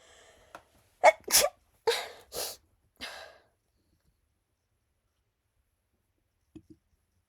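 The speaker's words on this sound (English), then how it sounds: "I'm sorry for sniffling. I just have like insane allergies" A person with bad allergies sniffles several times in a row, with sharp, close, wet nasal bursts in quick succession, followed by silence and two tiny clicks.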